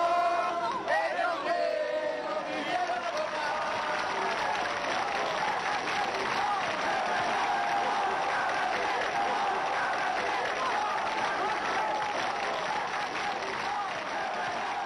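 A large crowd gathered from the whole region cheers and applauds the newly elected president François Mitterrand on 10 May 1981, a dense, continuous roar of clapping and shouting that stays loud throughout, with voices mixed in.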